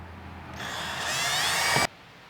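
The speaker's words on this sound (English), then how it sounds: "I'm going to use a 3/8 inch drill bit to get that started" A power drill with a 3/8 inch bit whirs steadily, drilling mounting holes, for over a second, rising slightly in intensity, then stops abruptly.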